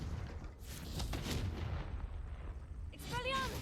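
The Confringo fire spell in the Hogwarts game, a booming blast with a rolling rumble that carries over a couple of seconds, then a brighter whooshing burst near the end, with a voice briefly speaking.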